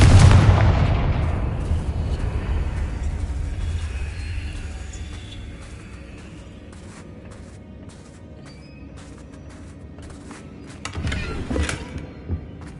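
Confringo fire spell casts in the Hogwarts Legacy-style video game, opening with a loud booming blast that rumbles and fades into a low hum, followed by a second sharper burst of crackling impacts near the end.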